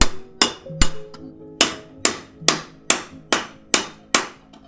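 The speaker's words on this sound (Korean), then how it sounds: "아직 열기가 남아있어 부드러운 은 덩어리를 망치로 때려가며 얇게 펴줍니다." A hammer pounds a softened, still-warm lump of silver flat, about ten sharp ringing metallic strikes in a steady rhythm, loud and close, each with a brief ringing decay.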